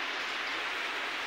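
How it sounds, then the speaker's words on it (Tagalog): Heavy rain pours down in a steady, dense hiss, close and loud, with no other sounds over the brief stretch. "Grabe ulan guys"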